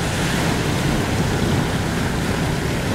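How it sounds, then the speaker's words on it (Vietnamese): Heavy sea waves crash against an iron boat out at sea, a steady, close roar of water and wind with no pause. "Sóng nó đập kìa các bạn."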